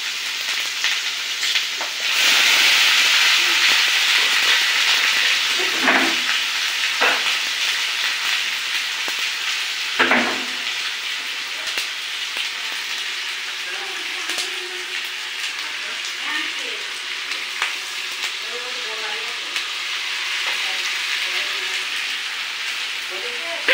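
Spices and ginger paste frying in a pan, a loud sustained hiss and sizzle that flares at the start then settles into steady crackling, with a few clinks and faint voices in the background.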